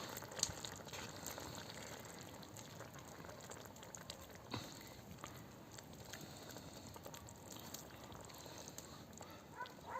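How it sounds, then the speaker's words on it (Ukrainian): A sauce of sour cream, mayonnaise and mozzarella simmers in a pan, making a faint, continuous bubbling and gentle sizzle with occasional small pops and no speech. "Буквально 5 хвилинок має протушкуватися."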